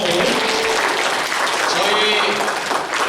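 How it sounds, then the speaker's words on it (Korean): A youth congregation applauds during a Sunday church service in Auckland, a dense continuous wash of clapping filling the room with faint voices mixed in. "박수 한번 주세요."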